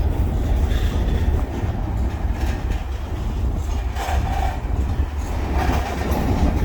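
A mile-long freight train rumbles past steadily and close in Miami Gardens, wheels clattering over the rails in a continuous loud roar with faint squeals.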